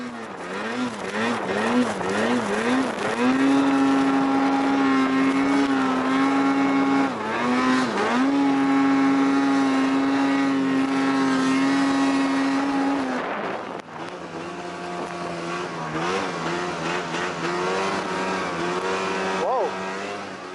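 An Arctic Cat Alpha One snowmobile engine held at full throttle through a tightening deep left turn in snow, a loud, sustained high whine that wavers, dips and climbs again, with a voice talking over it.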